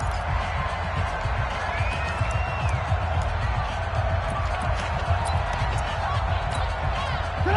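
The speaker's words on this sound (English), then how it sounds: "The crowd getting into it as we come up on a big 3rd down." A stadium crowd roars steadily at a Bears versus Jaguars football game, building for a big third down, with a broadcast commentator talking over the continuous dense noise.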